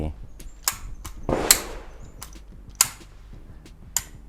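A SIG Sauer P220 pistol being unloaded and safety-checked at a shooting range, giving a handful of sharp metallic clicks and clacks spread irregularly across the moment, with a muffled rustle between them and faint talk underneath.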